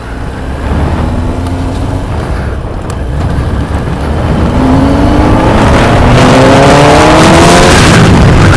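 Kawasaki ZX10R motorcycle engine revving and accelerating out on a road with traffic, a steady loud drone whose pitch climbs in rising sweeps, building stronger toward the end, with no talking over it.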